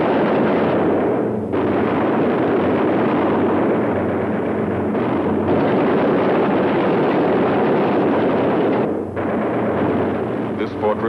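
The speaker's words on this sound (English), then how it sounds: "Drifting into the flak, alone and helpless." Dense flak bursts and gunfire roar around a damaged B-17 bomber in a war film, a loud, continuous rumbling barrage with a few brief dips over about eleven seconds.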